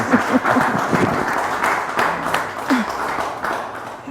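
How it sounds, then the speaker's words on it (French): Audience applauding a guest at a talk event on women's leadership, a steady patter of clapping from a modest crowd with voices faintly mixed in. "Est-ce qu'on peut acclamer pour notre invité?"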